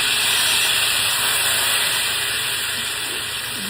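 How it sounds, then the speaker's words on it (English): White wine splashed into a hot pan sizzles into a loud, steady steamy hiss that fades only slightly over a few seconds, close up and with no talking. "you just kind of throw this wine in there"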